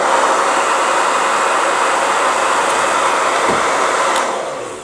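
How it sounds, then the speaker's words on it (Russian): A hair dryer blows a steady, loud broadband rush of air at the lower blades of a bladed wheel, holding constant for several seconds before tapering off at the end. "Включаю фен."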